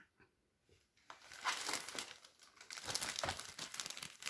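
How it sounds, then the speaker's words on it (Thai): A black plastic garbage bag crinkles and rustles as it is handled up close, with a few faint touches at first and then steady loud crumpling that continues for several seconds, no talking. "อันนี้ก็จะเป็น ถุงพลาสติกค่ะ ถุงดำที่เอาไว้ใส่พวกขยะค่ะ"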